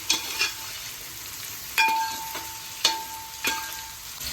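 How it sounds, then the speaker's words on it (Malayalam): Green peas and half a capsicum stirred in a hot pan for a vegetarian dish: a few scraping stirs against a low steady sizzle, with sharp metallic clinks of the spoon on the pan spaced about a second apart. "ഗ്രീൻ പീസ്, ഒരു ക്യാപ്സിക്കത്തിൻ്റെ പകുതി, എല്ലാം കൂടി ഇട്ടിട്ട് ഒന്ന് ഒഴിയട്ടെ"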